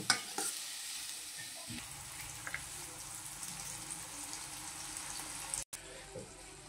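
Onions and green chillies frying in a pan for a prawn curry, a steady close hiss and sizzle with light stirring scrapes, briefly cutting out near the end.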